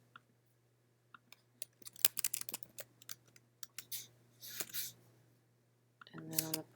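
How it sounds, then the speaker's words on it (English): Typing on a computer keyboard in a quiet office, a quick run of light, close clicking keystrokes with a steady low hum underneath and a few louder key taps toward the end. "I'm just going to type in a total too."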